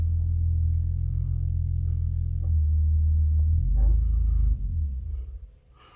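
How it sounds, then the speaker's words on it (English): A neighbor's loud car rumbles deep and close outside, swelling to a heavy roar before fading away, with no talking over it. "My neighbors have a very loud car, so if you heard that, that's what it is."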